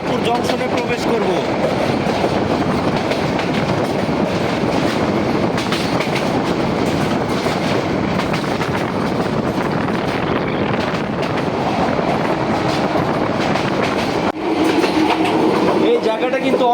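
The Tista Express runs on the tracks, a loud continuous rumble and clatter of wheels and carriage that holds steady from start to end, heard from on board.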